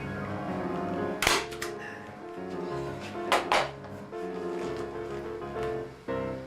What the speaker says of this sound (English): we're going to pull it fairly tight and staple it down here somewhere